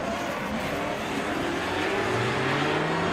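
Race car at a drift battle at Croix-en-Ternois, engine revving and droning in rising sweeps at a distance, with broad roaring noise and a hint of tire squeal throughout.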